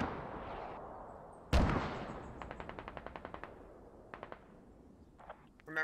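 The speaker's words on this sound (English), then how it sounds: "I wonder what the Russians are shooting at." Russian gunfire in the military shooter game Squad: one heavy blast, then a rapid rattling burst of automatic fire, followed by shorter bursts and a final volley, all at a moderate distance.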